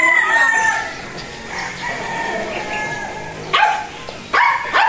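A Golden Boy Sweater gamefowl rooster crows loudly and close, with further crowing and clucking bursts near the end and a dog barking in the background.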